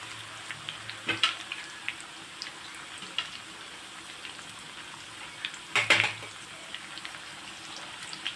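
Slices of raw green banana drop straight into hot oil over a low flame and sizzle into crisp chips, a continuous close fizz broken by two louder bursts of crackling as new pieces go in, with no talking.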